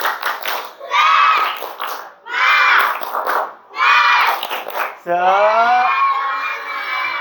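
A class of schoolchildren does a rhythmic clapping chant, bursts of claps and unison shouting repeated in bouts, ending with a drawn-out group cheer.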